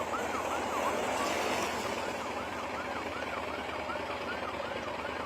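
A wailing ambulance siren sweeps up and down repeatedly at a moderate distance as it passes a women's road cycling race peloton, heard over a broad rushing wash of road and crowd noise.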